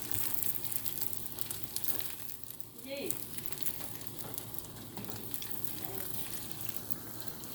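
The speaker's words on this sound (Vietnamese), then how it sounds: "Bánh này cũng hơi khó chiên một xíu đó" Bánh tô rice cakes sizzle in hot oil in a pan, a continuous dense crackling fry close by, with a brief stir or shift of the cakes partway through and faint voices in the background.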